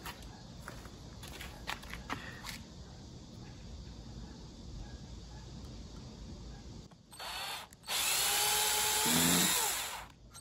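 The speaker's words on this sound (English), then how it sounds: "I'm going to take a very tiny drill bit and then just drill through the center" After some quiet handling clicks, a small power drill with a tiny bit whirs to life in two close bursts, the second long and steady before stopping, drilling into an electric guitar.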